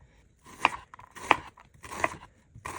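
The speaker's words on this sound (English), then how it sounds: "Now I'm going to show you how to slice an onion thinly." A knife cuts thinly down through an onion on a cutting board in four crisp, evenly spaced slices, close and clear with no talking.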